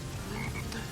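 A Black Frog enemy croaks in the Sonic Heroes video game, one brief, low, faint croak over steady game background sound.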